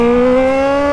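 Yamaha XJ6 motorcycle with a straight-pipe modified exhaust, revved once while still cold: a loud, close, raspy engine roar held at a steady high pitch for about a second before dropping off.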